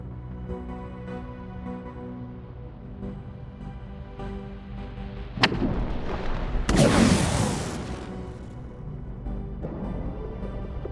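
Guns and missiles fire in a space battle in the video game Endless Space 2, with a sharp blast followed by a loud, rumbling burst of explosions over a steady sci-fi music bed.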